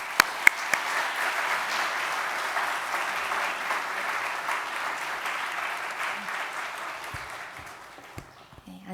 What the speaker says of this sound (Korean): 잠깐 나올 때 우리 박수로 환영하겠습니다.